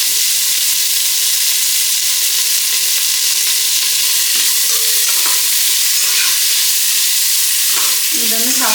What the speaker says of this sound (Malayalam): സവാള അരിഞ്ഞതാണ് അത് ഇട്ട് കൊടുക്കുന്നുണ്ട്